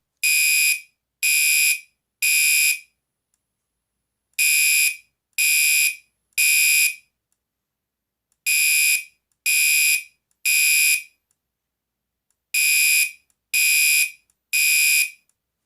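A Gentex Commander3 GEC3-24WR fire alarm horn blares in loud, close bursts of three (temporal code 3), four groups separated by brief pauses, with no voices.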